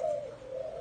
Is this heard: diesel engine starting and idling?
no